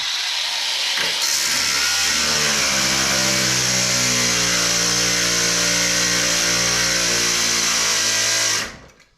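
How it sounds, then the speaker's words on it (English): A cordless grinder cuts at a Land Rover Defender 110 200Tdi universal joint with a loud, steady high whine and grinding rasp, running continuously before winding down at the end. "That's the problem with the cordless grinder. I just ain't got the speed."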